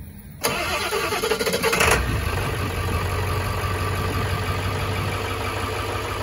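A 7.3 liter diesel engine cold-starting at 9 degrees on 5W-40 oil. It gives a brief cranking burst, then catches and settles into a steady, rough idle, close to the microphone and with no voices.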